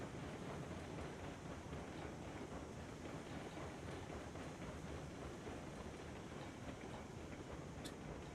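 Steam locomotive engine in the Railroads Online video game labouring uphill on a grade at 12% regulator, heard as a steady, dense rumble with broadband hiss throughout and no voices.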